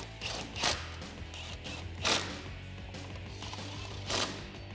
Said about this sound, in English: Then we can tighten up the bolts with a 10mm socket.